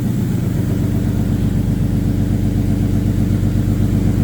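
Engine of a Ford AU Falcon ute running steadily while the scrap-bound vehicle drives without brakes, a loud continuous mid-pitched drone with a low rumble and no talk.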